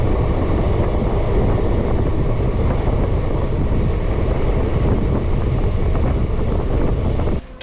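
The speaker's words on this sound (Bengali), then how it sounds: "বুঝতেই পারছেন যে ট্রেন কিন্তু ঝুলিয়ে ঝুলিয়ে যাচ্ছে" The Balurghat Express moving slowly, a loud, constant low rumble and roar from inside the carriage with wind buffeting, steady throughout and then dropping at the very end.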